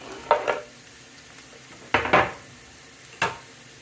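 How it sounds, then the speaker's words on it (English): Sliced peppers tipped into a pan of onions, giving three short bursts of crackling sizzle and stirring, each flaring loudly then fading against a quiet background. "it's time to add in the peppers that we've just cut up"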